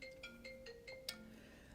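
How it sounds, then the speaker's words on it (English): A phone ringtone repeats faintly in the background, a steady electronic melody pulsing at short regular intervals with no talking over it. "Sounds like my phone is ringing"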